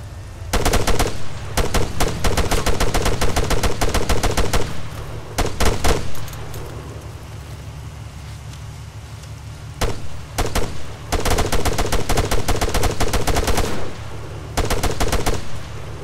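Sustained bursts of automatic gunfire aimed at a vehicle in the military shooter game Arma 3, loud and close, with rapid rattling volleys broken by brief pauses, no talking.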